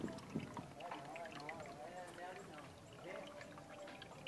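A boat carrying a group of people motors past on the water, a faint continuous wash and hum behind nearby voices talking throughout.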